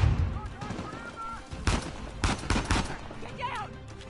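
Gunfire from snipers in the video game Uncharted 4, several sharp broadband shots in an irregular burst over low rumbling game ambience, fairly loud and close.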